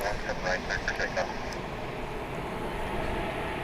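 Steady airliner engine roar as a Delta Airbus A319 lands at DFW Airport at night, a continuous broad rumble with someone talking briefly over it at the start.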